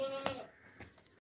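A castrated two-tooth goat gives a single short bleat near the start, followed by a fainter second call, quiet against a low background with no clear talk.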